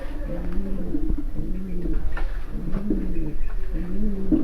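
Domestic pigeons coo close by in repeated rhythmic bursts of low, throaty calls, with a few soft background sounds between them.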